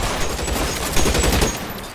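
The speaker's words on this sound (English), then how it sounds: "Where they shoot?" Rapid gunfire bursts in the LA Noire video game, a loud crackle of overlapping shots that peaks about halfway through and then tapers slightly.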